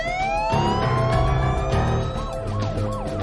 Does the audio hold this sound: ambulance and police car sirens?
yes